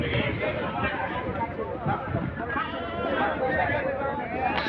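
Goats bleating at the crowded Fatullah livestock market in Bangladesh, their calls rising repeatedly over a constant babble of many people talking and wind.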